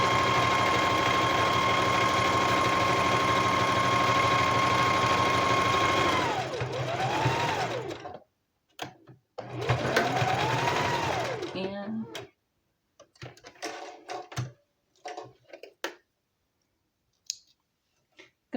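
A sewing machine stitches a trim embellishment onto fabric, giving a steady, loud mechanical whir with a fast rhythmic clicking that runs for several seconds, then slows and comes in short stop-start bursts before falling silent.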